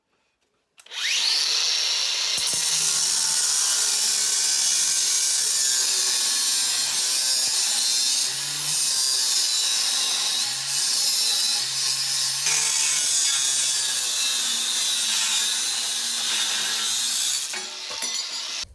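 A power saw or grinder cuts continuously through a metal holder piece welded from stainless steel and wrought iron, a loud, steady, high-pitched grind running about seventeen seconds with small shifts in pitch, close and with no talking.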